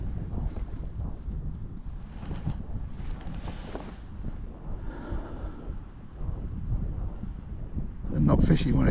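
Wind at an outdoor fishing lake on a cold day rumbles and buffets heavily against the microphone, constant and loud throughout, with a voice talking under it.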